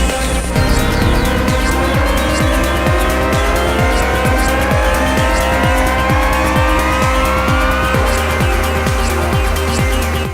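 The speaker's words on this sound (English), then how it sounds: "So this is just some of the new riser effects" An Elektron Octatrack performance mixer plays riser effects as its filters open, bright sweeping tones climbing steadily over a loud, regular four-on-the-floor kick drum pulse.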